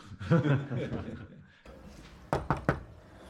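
Knocking on a house door, three sharp raps in quick succession near the end, following a stretch of indistinct voices and laughter from people nearby.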